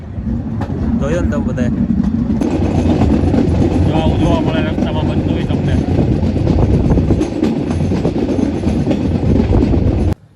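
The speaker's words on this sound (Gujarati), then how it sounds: "જો આવી રીતના ટ્રેક બદલે ટ્રેન" A train on the return run to Visavadar, Gujarat, on a line through the forest, switches tracks with a loud, steady rolling rumble and rattling wheels throughout, while someone talks over it.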